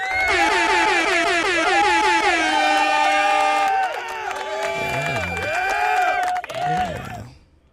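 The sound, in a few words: air horn sound effect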